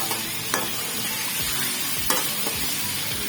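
Chicken, washed and cleaned, sizzles loudly in a pan of oil for biryani, a steady close frying hiss broken by a few scraping stirs of a spoon.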